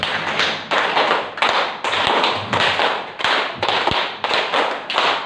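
A repeated rhythmic hand-clapping pattern performed three times in a row, a steady sequence of close, crisp claps grouped into regular bursts.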